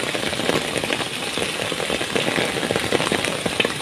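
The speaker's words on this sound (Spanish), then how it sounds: "Miren nomás cómo va corriendo el agua." Heavy rainstorm in Poblado Espinoza with rainwater rushing down a street, a dense continuous hiss and patter of rain and running water at fairly even loudness, with no voices.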